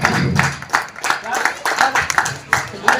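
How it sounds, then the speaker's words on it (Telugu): A crowd claps for a guest being honoured at a village cricket tournament, with bursts of scattered applause mixed in with someone speaking loudly over a microphone. "మన చప్పట్లతో వారిని గట్టిగా అభినందించాలి"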